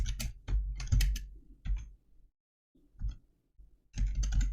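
Typing an image-generation prompt on a computer keyboard: bursts of quick, close key clicks, a pause of near silence, then another dense flurry of taps, with no talking.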